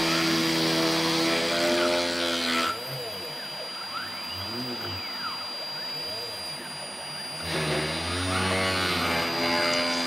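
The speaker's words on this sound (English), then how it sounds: "Now let's watch and listen as the CNC machine makes these first few pocket" A CNC machine spindle cuts pockets with a steady high whine and the grinding of cutting in the outer sections. The middle stretch drops to a quieter, thinner tone, close up and with no talking.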